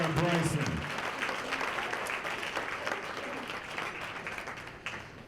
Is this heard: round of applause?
yes